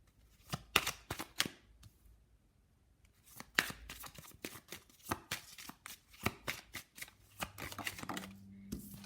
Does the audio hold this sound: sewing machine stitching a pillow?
no